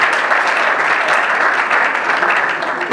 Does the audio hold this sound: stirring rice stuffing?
no